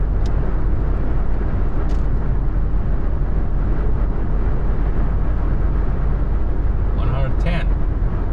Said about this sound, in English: Wind noise is getting stronger.